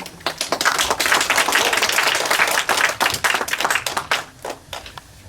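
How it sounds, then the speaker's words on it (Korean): An audience at a labour union cadre training session applauds to welcome a speaker, brisk individual claps blending into a lively crowd sound that swells, then thins out into scattered final claps. "민주노총 경남본부 안석대 수석 부본부장 동지를 힘찬 박수로 모시겠습니다."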